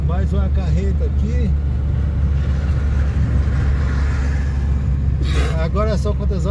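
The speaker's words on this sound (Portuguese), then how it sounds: "Mais uma carreta aqui." On the Fernão Dias highway, a semi-trailer truck rumbles past under a constant loud road and engine drone, heard from inside a moving vehicle.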